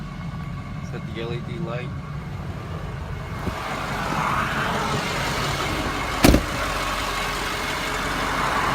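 Diesel engine of a 2005 Ford F-250 Super Duty turbo diesel pickup idling steadily with a low, even rumble after a cold start, a brief louder knock partway through, with a voice speaking over it at the start.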